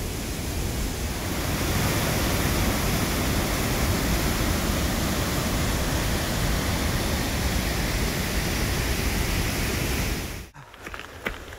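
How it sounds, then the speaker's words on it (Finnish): The Kiltaköngäs rapids roar with a dense, unbroken rush of water that is loud and near. Just before the end it cuts off abruptly, leaving quieter rustling. "Melkoinen koski"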